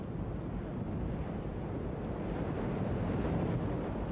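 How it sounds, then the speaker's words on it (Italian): Wind and waves on the open ocean as a storm builds at sea, a steady broadband roar with low rumble that swells slightly toward the end, continuous and fairly loud with no voices. "Si sta preparando un temporale."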